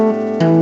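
Two quick taps on an electric guitar fretboard, bright sustained notes with the second pitch change striking louder about halfway through the short sound.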